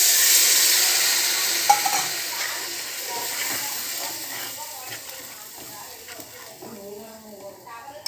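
Strong hiss and bubbling sizzle from a pan of simmering fenugreek curry, loudest at the start and easing off, with a person talking over it later.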